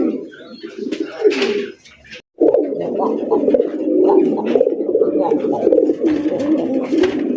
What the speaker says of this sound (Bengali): দেখেন কবুতরের কোয়ালিটি দেখেন।